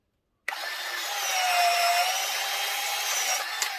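A Ryobi cordless PVC cutter slices through a PVC pipe in one continuous motorized whir and grinding hiss lasting a few seconds. It starts abruptly out of silence and is heard close up with no voices.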